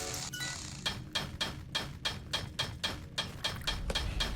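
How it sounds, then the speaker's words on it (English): Upgraded hammer smashing rocks in a gem-mining video game, a steady run of about a dozen sharp, evenly spaced impacts, loud and close with no talking. "It's so easy to just aggressively use that hammer"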